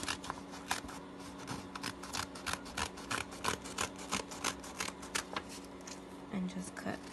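Scissors snip through strips of colored paper in a series of quick, close cuts with a steady rhythm, while faint rustling of paper continues in between.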